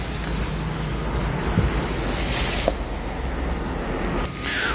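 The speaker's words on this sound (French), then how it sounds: "Il y a du vent là. Vous voyez le vent là?" Steady, roaring wind buffets the microphone outdoors near a train station in France with a constant rushing noise, broken by a couple of faint brief knocks.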